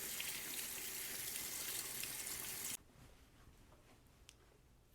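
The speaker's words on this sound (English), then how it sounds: "All right, let's rinse." Running water rinses soapy shampoo from a doll's hair, a steady close splashing that stops partway through and leaves quiet room tone.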